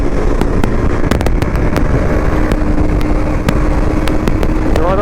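A motorcycle exhaust is revved hard and held, a dense loud roar peppered with sharp popping cracks from the pipe throughout, close to the listener.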